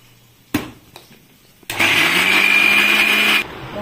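Electric blender grinding spice paste for bhindi masala, a couple of sharp knocks before the motor kicks on into a loud, steady high whine that runs for about two seconds and then cuts off.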